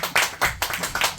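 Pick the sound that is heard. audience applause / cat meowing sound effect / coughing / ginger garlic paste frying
audience applause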